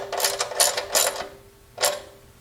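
Socket wrench snugging 13mm bolts on industrial sewing table double-T legs during assembly: a few short, bright metallic clicking bursts, close and clear, separated by brief pauses with no voices.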